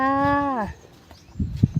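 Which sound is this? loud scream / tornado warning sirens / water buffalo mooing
water buffalo mooing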